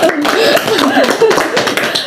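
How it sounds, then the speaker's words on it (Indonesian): A group claps hands in a rapid, dense patter, close and loud, with chatter and voices mixed over the applause throughout. "Tepuk tangan dulu dah."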